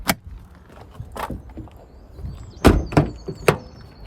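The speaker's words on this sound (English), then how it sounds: "Pop the bonnet, which is just here." Bonnet release and latch on a 2016 Nissan Navara 2.3 dCi Tekna pickup: a few sharp, close mechanical clunks and taps, the loudest pair near the end, over quiet background.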